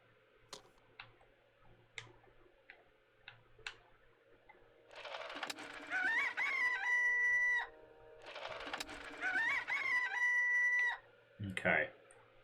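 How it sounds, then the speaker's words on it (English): A rooster crows twice, each crow long, loud and warbling, after a run of sparse sharp clicks and ticks over a low steady hum. "You all heard the rooster, right?"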